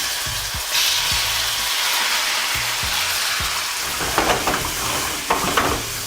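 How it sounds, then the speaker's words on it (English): Steady crackling sizzle of chicken frying in hot oil for jalfrezi, with occasional clinks and scraping of a utensil stirring in the pan. "When the oil is nice and hot, we're gonna throw in our chicken."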